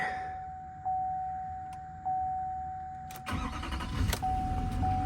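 Soft warning chimes ding at a steady pace before a GMC Denali truck's engine cranks and catches, settling into a close, rumbling idle while the chime continues.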